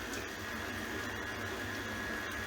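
A stand mixer beats a cup of softened butter for shortbread cookies, giving a steady, continuous motor whir with a faint high whine throughout.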